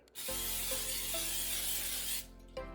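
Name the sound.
spraying olive oil into air fryer basket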